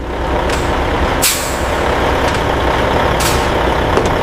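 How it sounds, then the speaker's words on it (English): Truck idling with a deep engine rumble while its air brakes let off several sharp hissing bursts, loud and close. "This truck needs to reach the distribution center inside 2 days."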